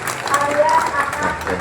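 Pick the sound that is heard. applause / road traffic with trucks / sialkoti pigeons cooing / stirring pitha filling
applause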